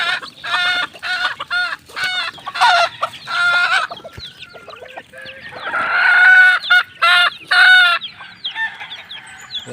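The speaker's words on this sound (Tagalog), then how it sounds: "Ayan po mga kaibigan yung ating mga alagang sisiw." Young pet chicks and chickens in a small backyard coop at feeding time, with repeated close, loud bursts of clucking and squawking calls, plus a brief crowing-like call near the middle.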